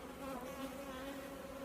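A steady, close insect hum of bees buzzing around a backyard apiary of seven hives, a continuous drone holding a few pitch bands with no voices over it.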